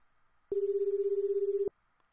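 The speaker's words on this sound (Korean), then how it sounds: "나는 다시 한번 남자친구와 전화기로 전화를 걸었다." A single steady electronic ringback tone sounds for about a second from an unanswered phone call in the Korean horror video game 집착의 망자, set against a faint quiet background.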